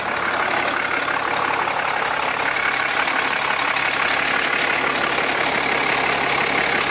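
A truck engine runs just after an oil and filter change, giving a steady, loud, rough idle with an even diesel-like clatter throughout and no starting crank audible.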